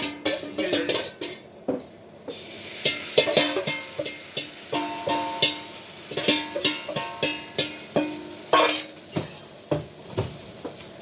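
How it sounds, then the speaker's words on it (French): Batter or dough being stirred in a bowl, a steady series of close clinks and scrapes of utensil against the dish in a regular rhythm, loud and alone without talk. "Je tourne un peu, je remue un peu la pâte"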